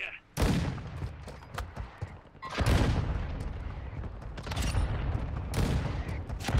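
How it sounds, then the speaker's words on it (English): A mortar strike in the game Warzone Mobile: heavy booming blasts roll in one after another, loud and close, each swelling into a long rumbling wash of explosive noise. "Mortar strike inbound now."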